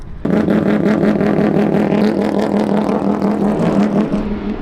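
A six-rotor engine in a Mazda RX-7 idles and revs loudly up close, its lumpy, pulsing drone rising and falling with throttle blips.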